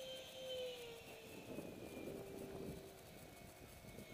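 A twin 70mm electric ducted fan model jet at full throttle, with a steady high-pitched whine that drifts slowly downward in pitch as it passes at moderate distance, loud and continuous.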